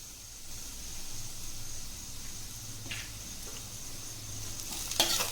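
Garlic frying in a pan, a soft continuous sizzle with faint stirring, close but quiet, ending with a brief louder scrape or hiss.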